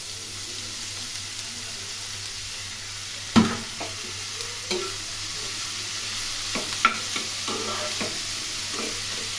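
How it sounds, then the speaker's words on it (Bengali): Ash gourd and chopped onion stir-frying in a pan give a soft, steady sizzle, broken by a few sharp knocks and scrapes of a spatula against the metal. "এখন এর মধ্যে আমি দেবো চাল কুমড়ো আর কুচিয়ে রাখা পেঁয়াজ।"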